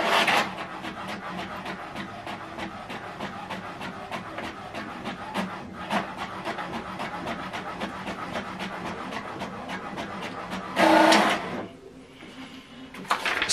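HP DeskJet Plus 4122 inkjet printer printing a document, a steady mechanical whir with a fast ticking feed rhythm running throughout, ending in a louder brief whoosh and a short pause.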